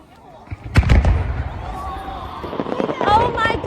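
Fireworks launched in Liuyang City go off with a loud booming burst, then crackling and whistling fill the sky while a crowd cheers and people talk nearby.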